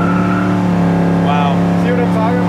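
A big-block 1968 Chevy Camaro engine drones loud and close under acceleration, a strong steady low roar with rising and shifting tones, while people talk over it.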